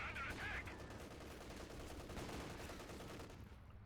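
Panther tank's hull machine gun firing in Company of Heroes 2, a faint continuous rattle of automatic fire mixed into dense battle noise.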